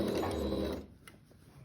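A sewing machine stitches fabric in one short, close, steady mechanical whir that lasts under a second and then stops, leaving faint handling clicks.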